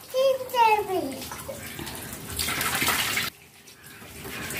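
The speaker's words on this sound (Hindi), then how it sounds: "मछली धो रहा है" Fish are washed in water with splashing and running-water sloshing close by for a few seconds, while a voice is heard at the start.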